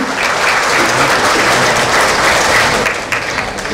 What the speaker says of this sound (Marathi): जोरदार टाळी होते.